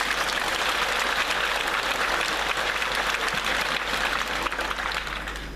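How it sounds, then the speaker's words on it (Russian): A theater audience at a KVN comedy show in Kudymkar gives loud, dense, continuous applause that holds steady for several seconds before easing slightly. "Громкие аплодисменты."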